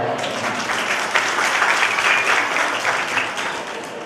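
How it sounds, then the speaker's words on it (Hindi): Enthusiastic audience applause welcoming a guest at a live Shrimad Bhagwat Katha gathering, loud dense clapping that swells and then slowly eases. "जोरदार तालियां बजाएं।"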